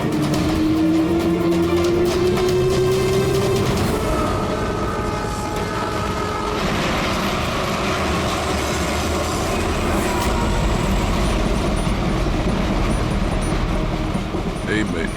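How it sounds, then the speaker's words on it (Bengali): A train pulls out of a busy station platform, its broadband rumble and rising wheel tone filling the scene while a crowd and voices mingle loudly throughout. "ট্রেন ছেড়ে দিল"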